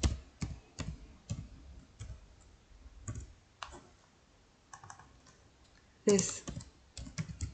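Keyboard typing on a computer while entering code in an Excel VBA immediate window: irregular bursts of close, crisp key clicks with pauses between, and a brief spoken word near the start.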